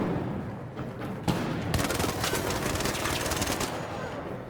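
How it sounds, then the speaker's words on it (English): Rapid automatic gunfire from the video game Arc Raiders, a dense stream of repeated shots after a sharp burst, loud and continuous over steady game noise. "Oh, I'm getting shot, I need help."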